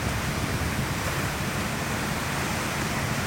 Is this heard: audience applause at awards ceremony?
no